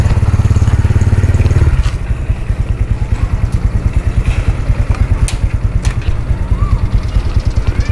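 A motorcycle engine idles loudly up close, then the rhythm changes to a rapid steady thumping as the bike pulls away, with faint background noise and no talk.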